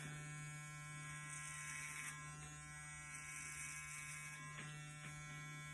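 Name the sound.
electric hair clippers with a grade 3 guard cutting hair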